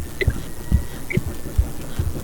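In the horror video game Apeirophobia, a low, steady heartbeat thumps about every half second under a faint background hum.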